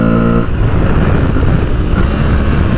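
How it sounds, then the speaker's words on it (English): An Aprilia Tuareg 660 motorcycle engine roars loud and close as it accelerates, its steady rumbling drone continuing throughout with no talk over it. "And just honking away, what an engine."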